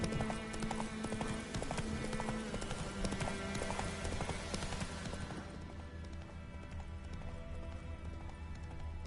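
A horse gallops in The Witcher video game, rapid clip-clop hoofbeats in a steady driving rhythm over a dense game soundscape that thins out after the first half, close and continuous.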